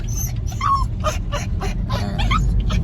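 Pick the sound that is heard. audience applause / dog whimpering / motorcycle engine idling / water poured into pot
dog whimpering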